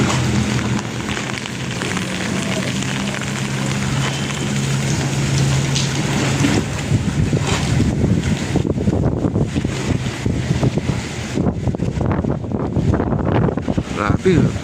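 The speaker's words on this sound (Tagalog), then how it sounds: "Oh, lakas ng hangin guys," Strong typhoon wind roars across the microphone beside the Pasig River at the Esplanade, with churning waves, steady and loud throughout, growing more turbulent and gusty in the second half.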